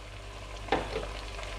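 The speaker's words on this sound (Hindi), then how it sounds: "अब इसको हल्के हाथों से हम मिक्स कर लेंगे" Brain masala being gently mixed by hand with green onion, coriander, green chilies and ginger in a pan, giving a quiet steady sizzle with a single soft scrape and clink of the spoon partway through.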